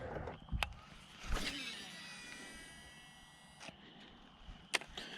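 Several quick whirring zips of a Shimano Curado DC baitcasting reel spinning out during casts, sharp and close, separated by short pauses.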